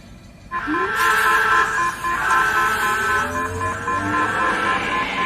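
A loud electronic monster alarm in the Ultraman Dyna series starts abruptly and keeps sounding in steady buzzing tones, with a rising wail underneath, close and continuous.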